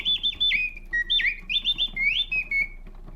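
An antique French singing-bird automaton gives bright mechanical warbles, a rapid series of whistled chirps and slides repeating in short bursts, close and loud against a faint low mechanism hum.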